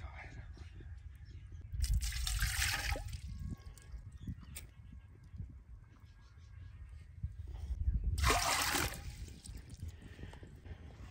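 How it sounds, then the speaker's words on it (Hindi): Water poured from a cup into a cooking pot on a stove for boiling water chestnuts, two short splashing pours a few seconds apart, close and fairly loud, with quiet talk in between. "तकरीबन डेढ़ प्याला जो है वो पानी डाला है।"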